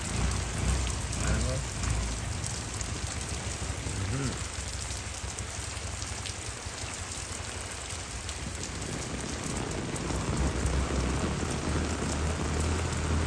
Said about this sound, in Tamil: பெரிய மழை வந்து அடுத்து